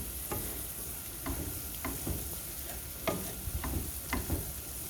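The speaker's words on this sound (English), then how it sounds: "So I'm gonna let that keep browning" Chunky ground beef for a cheeseburger casserole browns in a pan with an even, moderate sizzle, punctuated by irregular spatula taps and scrapes against the pan.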